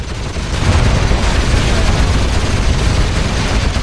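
Tank cannon fire in the C&C Generals Zero Hour real-time strategy game, heard as a dense, loud, sustained wash of rumbling battle noise with no distinct pauses.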